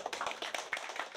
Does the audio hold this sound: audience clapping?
yes